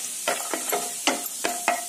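Peanuts frying in hot oil, with a quiet sizzle and six or seven distinct sharp scraping stir strokes in an uneven rhythm, close by and alone.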